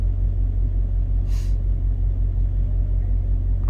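A truck engine left idling at a loading dock gives off a steady, loud low rumble that holds level throughout, with one brief hiss partway through and no talking.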